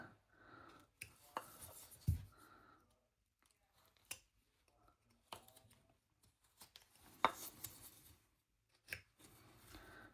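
A knife carves the earlobe of a wooden figure in quiet, scattered short cuts and scrapes, with one sharper snick near the middle. The carving is close and faint, with no talk.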